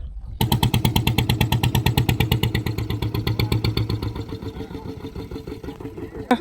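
A motorboat engine chugs steadily and loudly close by, with a fast rhythmic pulsing that carries on unbroken throughout.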